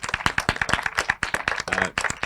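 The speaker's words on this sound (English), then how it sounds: "maybe a big round of applause, please" A short burst of clapping from a small group rings out at an online-style hangout session, individual hand claps distinct and close, irregular and lively for about two seconds.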